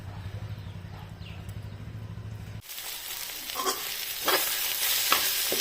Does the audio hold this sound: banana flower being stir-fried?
yes